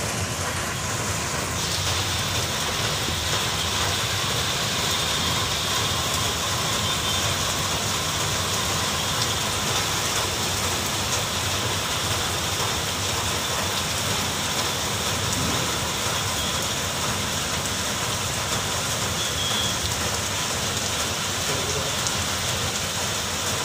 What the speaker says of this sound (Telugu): హైదరాబాద్లో మళ్ళీ వర్షం మొదలైంది ఫ్రెండ్స్.